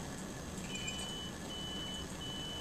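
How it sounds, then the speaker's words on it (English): A conductivity tester dipped in distilled water gives a faint, thin electronic tone in intermittent stretches over a soft background hiss. "You can hear a small amount of beeping telling us that there's a small amount of conductivity from the distilled water."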